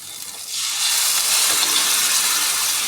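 Mutton pieces go into hot oil, setting off a loud rushing hiss that swells within a second and holds as a dense, steady sizzle, close up with no talking.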